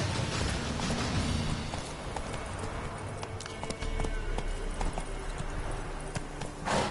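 Hooves of the horse Roach in The Witcher 3, a steady clip-clop of a walking to trotting horse, close and continuous over ambient game sounds, ending with a brief snort.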